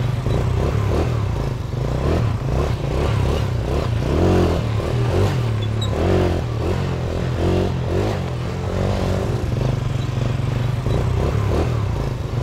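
Motorbike engine revved loudly and repeatedly nearby, a rough, rising and falling growl lasting throughout with clattering mechanical texture and no talk.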